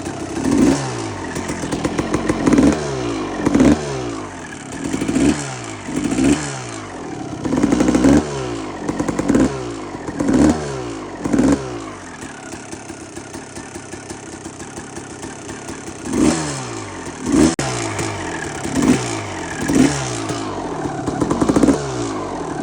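A 2001 Suzuki RM250 two-stroke dirt bike engine runs loud and close, repeatedly revving in sharp bursts that fall back to a rattling idle, with a short lull midway before the blipping resumes.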